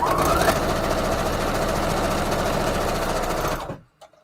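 A sewing machine runs a steady straight stitch through scrap paper, a fast even mechanical chatter held for several seconds before it winds down and stops.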